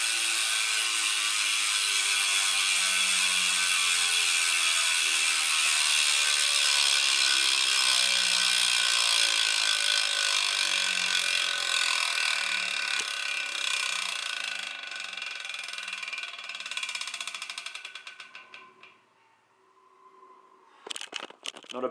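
A Killer Buzz BMX hub freewheels as the wheel rolls, giving a loud, rapid, continuous buzzing click that slowly loses speed over a long coast before stopping, followed by a few scattered mechanical clicks.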